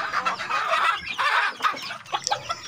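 Hens clucking, a pair of laying hens kept together as hungry backyard poultry; close, busy clucking and squawks come in bursts with no talk over them.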